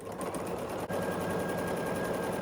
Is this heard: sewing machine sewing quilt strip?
yes